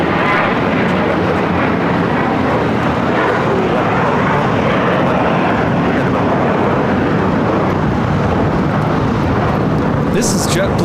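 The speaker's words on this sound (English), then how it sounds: "This is JetBlue Airways flight 1124 taking off to JFK" A JetBlue Airways jet on flight 1124 to JFK takes off from LAX, a loud continuous engine rumble and roar holding steady for the full stretch, with voices chatting underneath.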